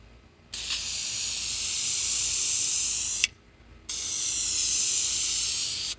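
A spray paint can sprays blue paint onto a 1991 Toyota MR2 upper chassis brace in two close, loud, steady hissing bursts. The first lasts about three seconds, and after a short pause the second is a little shorter. There is no talking.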